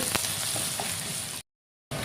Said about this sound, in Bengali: সব উপকরণ আমি সব ভাজা নিব।